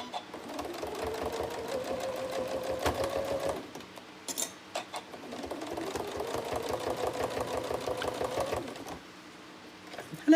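A quilting sewing machine runs in two bursts of rapid, even stitching chatter, pausing briefly in between and stopping near the end, close and clear.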